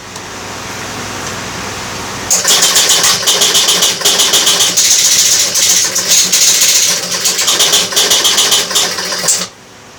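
A Gottlieb four-player pinball machine powers up after motor board repair: a steady electrical hum, then loud rapid relay and solenoid clatter that chatters continuously for about seven seconds before cutting back to the hum.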